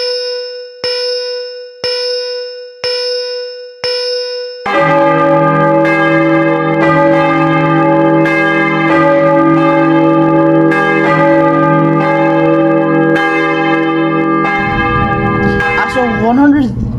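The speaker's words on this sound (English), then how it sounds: "the bell of Balzian will ring, marking the first partial tally" A large bell rings for an election's first partial tally, first as five short, separate clangs, then as sustained, loud ringing with a long, resonant tail.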